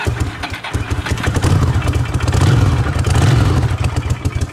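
A Ducati Monster motorcycle engine idles up close, a loud, steady, even-running throb with a slight mechanical clatter that holds for the whole stretch.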